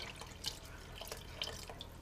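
Rinse water from tomato cans poured into a pot of tomato gravy, a faint close trickle with a few small drips and splashes, no talk.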